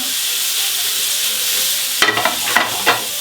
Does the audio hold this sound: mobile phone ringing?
no